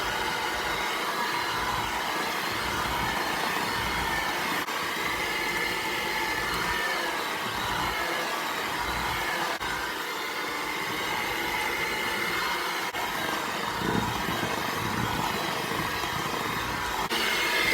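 An electric mixer runs on low speed, mixing cookie dough with dry ingredients added to a butter mixture, giving a steady close whirring hum that continues throughout without talk.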